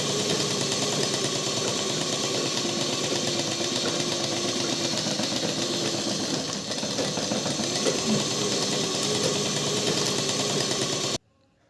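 A sewing machine stitches petticoat lining cloth in one continuous whirring run with a steady rhythmic tick, close and fairly loud, ending abruptly.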